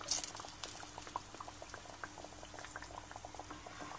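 Camembert fries in hot oil, giving a dense, continuous crackle and sizzle of fine popping bubbles, close and steady throughout with no talking.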